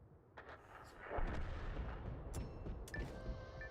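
Artillery fire in a video game, a spread of low booms and crackling impacts rumbling at moderate level, fairly distant, with brief sharper reports and faint background tones.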